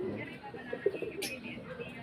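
Pigeons cooing nearby in a Filipino pigeon-flying setting, a few soft low coos in the middle of a short stretch with faint background noise and a brief high hiss.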